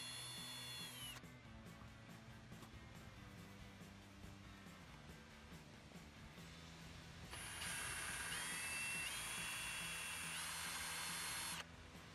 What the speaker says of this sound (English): we're gonna drill in a couple of shallow holes into each of these posts